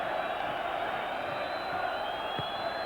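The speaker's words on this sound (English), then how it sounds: "So the Rangers fans cheering their team on to the very last here." Rangers football fans roar and cheer in a stadium during a 1993 Champions League match against Club Brugge. The crowd noise is steady and dense from start to finish, and a commentator's voice sits over it.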